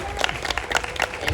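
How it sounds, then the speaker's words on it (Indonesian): Audience applause for Andri Marsandi at a film event, a short burst of dense clapping from a crowd, loud and close with a voice briefly audible over it. "tepuk tangan buat Andri Marsandi"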